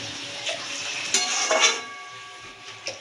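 Water poured into masala frying in oil in a pan for an egg curry, giving a steady sizzle with bursts of spitting and occasional stirring clinks of a utensil against the pot, close and moderately loud, no talk.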